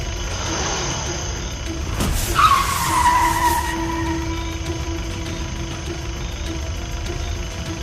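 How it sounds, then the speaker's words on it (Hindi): A white Mahindra Bolero comes up along the road with a rising engine rush and a brief tyre squeal that fades into a steady rumble, loud and close, with no one talking over it. "मुझे लगता है बोलेरो ही है।"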